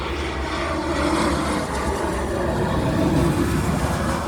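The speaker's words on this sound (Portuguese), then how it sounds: "Olha o barulho do avião." An airplane roars overhead as a steady, loud broadband rumble filling the whole clip, with no speech.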